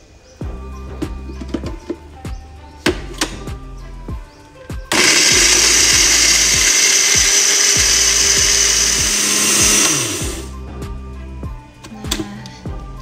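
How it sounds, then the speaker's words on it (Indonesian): A blender grinds spice paste with a little water for Aceh shrimp curry in coconut milk, a loud roaring whir lasting about five seconds, framed by knocks and clatter of kitchen handling before and after. "Kita blend."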